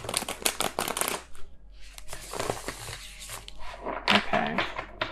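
Rapid riffling and snapping of a deck of tarot cards being shuffled, in quick bursts with short pauses, close up, with a voice speaking at points.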